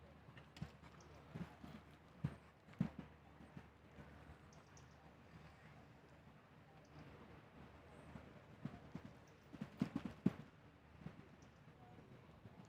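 Hooves of a big show jumping horse thud on the arena footing at an eventing competition, fairly faint and distant, with scattered louder impacts amid quiet background.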